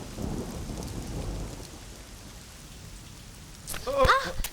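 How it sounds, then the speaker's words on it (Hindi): Rain falls steadily in the background, then a sharp, nearby crack of thunder breaks out near the end, loud above the hiss of the downpour. "अच्छा हुआ हम लोग जल्दी घर में आ गए, अगर बारिश से भीग जाते तो हालत ही खस्ता हो जाती।"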